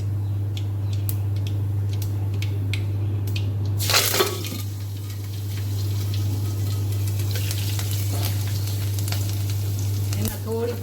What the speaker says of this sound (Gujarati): રાઈ તતરી જાય એટલે આપણે એમાં લીલા મરચાં અને મીઠો લીમડો એડ કરી દઈશું